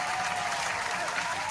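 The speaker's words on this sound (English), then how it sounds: "I got to give a big applause to Miss Linda." Continuous applause from a small crowd, a dense even clatter of clapping hands that holds steady and fairly loud throughout, with no voices standing out.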